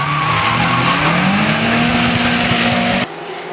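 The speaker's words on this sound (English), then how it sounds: "A clean and aggressive line into the final corner earned Bagsy the favour of the judges" Drift cars skid through the final corner in a pro drift competition, with tires squealing continuously over loud engine roar, the sound cutting off abruptly near the end.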